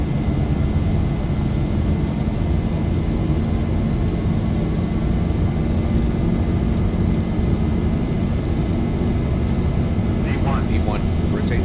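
A Boeing 737-800 (Zibo mod) accelerates down the runway at Baltimore KBWI in X-Plane 11, its engines making a steady, loud, broad roar throughout. A voice speaks over the engine noise.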